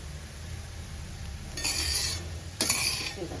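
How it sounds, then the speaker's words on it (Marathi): Grated coconut being stirred continuously in a hot kadhai over low gas, giving soft scraping and rustling strokes in two brief bursts over a quiet background. "कढई तापली की आपण बारीक करायचा गॅस आणि सतत ढवळत राहायचं आहे"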